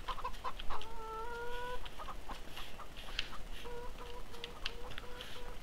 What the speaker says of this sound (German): Wir gehen jetzt mal ganz kurz nach unseren Hühnern gucken.